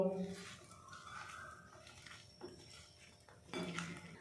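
Raw green tomato ingredients being mixed together with oil in a bowl, with soft clinks and scrapes of utensil against a dish in a few brief bursts, fairly quiet at close range.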